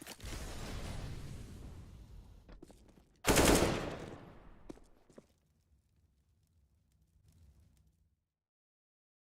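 Gunfire in a Counter-Strike match, G2 vs FlipSid3 at the IEM Katowice 2017 qualifier: a loud, sharp burst of shots rings out midway, with fainter scattered clicks and noises before it fading into near silence.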